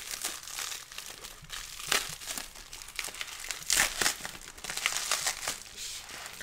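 Crinkling and tearing of plastic packaging as a beard care product shipment is opened and unwrapped, with repeated close, bursty rustles and crunches throughout.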